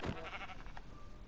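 A Minecraft sheep bleats once, a short wavering cry heard close and alone.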